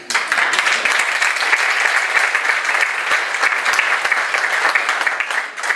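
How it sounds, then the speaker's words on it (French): Sustained applause from a ceremony audience in Marsico Nuovo, a dense, even clatter of many hands clapping that holds steady at a fairly loud level for several seconds before easing slightly near the end. "Mirella Conenna, que je vous demanderai d'applaudir."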